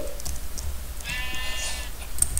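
A sheep bleats once in Minecraft, a short wavering bleat of about half a second over steady game background noise, moderately loud, with no talk over it.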